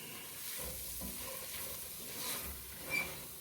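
Flour browns in hot oil in a large pot for chili con carne with ground beef, giving a low, steady sizzle with faint stirring movement and a small clink near the end.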